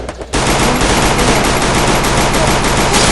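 Rapid automatic gunfire from a Glock 18 pistol in the mobile shooting game Free Fire, a loud continuous burst that starts after a brief quiet moment and runs unbroken to the end.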